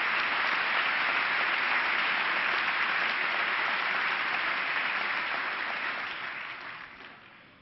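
A large audience applauds during Bill Clinton's 2000 State of the Union address, a dense, sustained roar of clapping that holds steady and then fades away toward the end.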